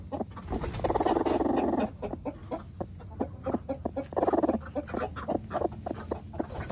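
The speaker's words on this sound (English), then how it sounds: "Here's a Broody chicken." A broody hen, puffed up on an empty nest, makes harsh growling squawks and a run of rapid low clucks, close and fairly quiet, with no one talking.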